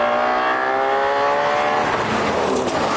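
A Ferrari Purosangue and a BMW X5 M accelerate hard side by side in a drag race, with a loud, rising engine roar as they pull through the gears and the sound swells nearby.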